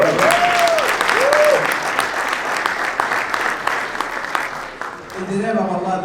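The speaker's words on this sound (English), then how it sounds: "give him a round of applause" An audience at a Muslim Heritage Month food distribution event in Paterson applauds the mayor with dense, sustained clapping that runs for about six seconds. A voice rises briefly near the start and the applause fades out at the end.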